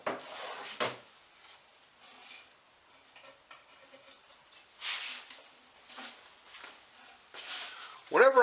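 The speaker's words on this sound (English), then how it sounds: "our first step is to pull these drawers out of here" Wooden drawers of a mid-century modern dresser scrape and knock as they are pulled out, a few soft sliding rubs and bumps, with quiet movement around them and a voice briefly near the end.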